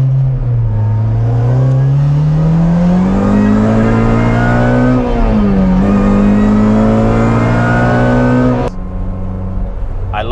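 A car fitted with a Hybrid Racing short shifter drives and revs hard, its engine note climbing steadily through a gear, dipping at a quick shift, then climbing again before cutting off sharply near the end, loud and close from inside.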